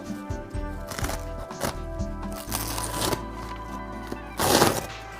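Pieces of paper are peeled and torn off a wall while wallpapering, giving a series of close, crisp rustling and ripping bursts with short pauses, one louder tear near the end.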